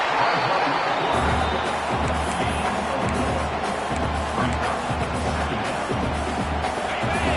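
A packed stadium crowd at a Florida State college football game keeps up a loud, steady roar of cheering and noise throughout, continuous and unbroken with no clear single voices.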